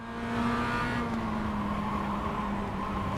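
A car passes close on the left during a tight, crowded racing battle, its engine droning steadily at high revs throughout with a strong sustained tone and little change in loudness.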